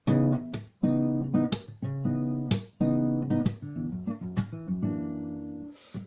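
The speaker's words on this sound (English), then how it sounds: "finger plucking and slapping the strings" A guitar plays a rhythm with percussive finger plucking and string slaps, sharp snapping hits punctuating ringing chords in a syncopated groove, close and alone.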